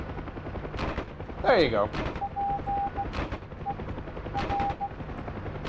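Door-mounted machine gun on a UH-1 helicopter in the DCS flight simulator, a few short bursts of gunfire over steady rotor and engine drone, with people talking over it.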